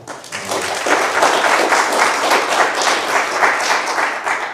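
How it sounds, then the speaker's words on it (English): An audience at a Wyoming National Guard Retiree Council gathering breaks into a round of applause that swells quickly and stays full and steady, close and loud. "I'd like to give them a big round of applause real quick."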